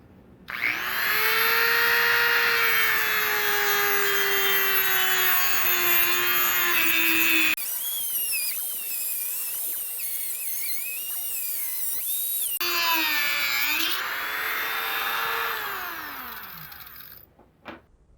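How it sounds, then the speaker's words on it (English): Dremel rotary tool cutting 3/16 stainless steel cable, a loud high-pitched whine with grinding bite that shifts pitch as it loads, drops off briefly mid-cut, then resumes before spinning down. "Try to make a nice neat cut with a Dremel tool."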